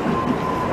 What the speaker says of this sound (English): Elevator view of 125th Street on Broadway on the One Train.